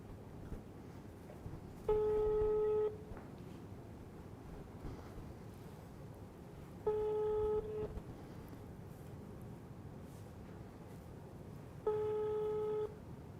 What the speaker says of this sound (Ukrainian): Пішов дзвінок.